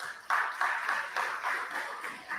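Faint, patchy applause for a speaker at an outdoor political public meeting, a few scattered bursts of clapping from a distant crowd.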